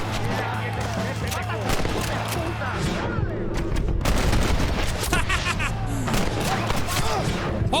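Gunfire in Red Dead Redemption during a shootout: scattered sharp shots and bursts ring out over steady game ambience and music, with someone talking over much of it.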